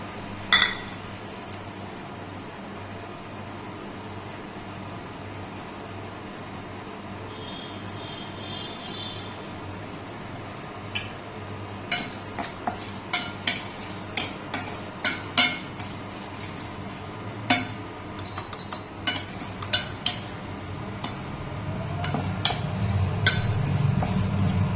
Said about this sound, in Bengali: সাদা তেলের মধ্যে সিমাইটা আগে থেকে নিয়ে রেখেছিলাম, এটা হালকা লাল করে ভেজে নেব।